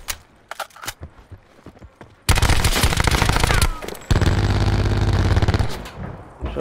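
Gunfire in Call of Duty: Black Ops 4, starting with a few scattered shots, then two long, loud bursts of rapid automatic fire close by, split by a brief pause.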